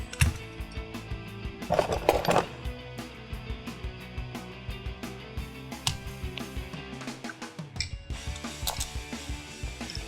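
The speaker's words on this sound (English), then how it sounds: "So first thing I'm going to do is go ahead and disconnect the motor connectors." Motor connectors on an ICS L85A2 airsoft gun are pulled apart in a run of small clicks, plastic rattles and mechanical clinks, close and irregular, with no voices.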